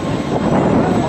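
Patrouille de France aerobatic jets roaring overhead at an airshow seen from a theme park, a loud continuous broadband engine rush with wind buffeting the microphone.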